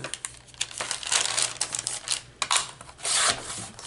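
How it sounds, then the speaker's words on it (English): Paper being cut for a junk journal album organizer, heard as a continuous run of close, dry crinkling and slicing rustles with irregular louder bursts, no talking. "So I'm going to cut this at 3 inches."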